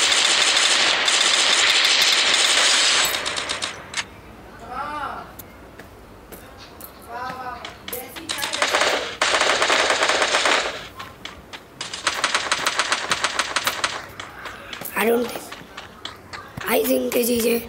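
Bursts of rapid video game gunfire rattle loudly in several long volleys, interrupted by stretches of excited talking between them.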